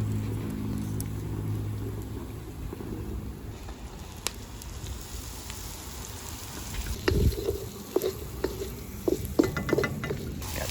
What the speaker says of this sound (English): Got some nice sizzle going here.